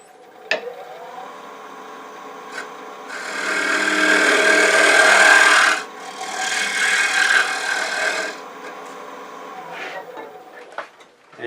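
Wood lathe rough turning a wooden bowl, with a steady motor hum and a louder rasping swell as the gouge cuts for several seconds, easing off, then cutting again before settling back to the running motor.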